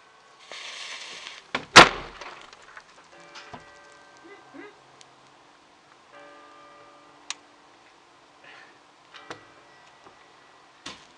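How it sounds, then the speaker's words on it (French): A door slams shut hard once near the start, loud and close, then scattered small ticks and clicks follow in an otherwise quiet room. "J'ai peut-être un peu trop claqué la porte."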